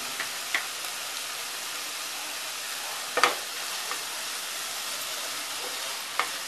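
Banana flower bhaji stirred in a pan, a soft steady sizzle with a few light taps and scrapes of the spoon against the pan, quiet and close.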